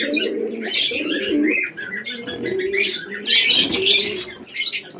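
Crested pigeons in a home pigeon collection coo in low, repeated murmurs, with bright chirps and tweets layered over them. The calls sound close and continuous throughout, and no one speaks.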